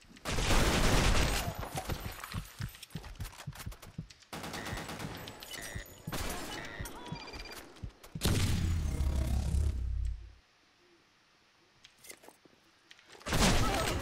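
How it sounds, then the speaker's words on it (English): Heavy bursts of rapid automatic gunfire and explosions from the online shooter Blackshot during a clan war match, loud and nearly continuous, with a brief lull before firing resumes; voices talk underneath. "Too much gunshot, I can't hear anything."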